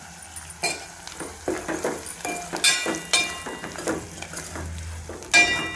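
Carrot with ginger-garlic paste frying for sambar, stirred in a pan: scraping and clinking strokes over a steady low sizzle, close and moderately loud, with no talking.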